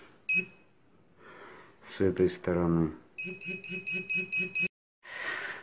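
A Chinese pinpointer metal detector gives rapid, evenly spaced electronic beeps in a quick pulsing run, loud and close, with someone talking before and around it.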